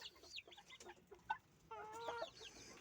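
Poultry cluck near a water dish, with scattered short clucks and a longer run of calls near the end, quiet and close with no talking.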